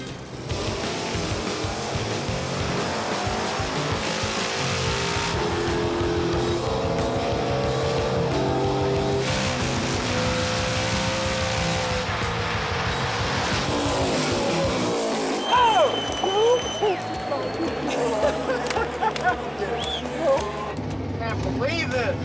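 Race cars roar through the final championship race at Virginia Motorsports Park, a loud sustained engine drone with rising revs and tire squeal near the end, with voices talking over it.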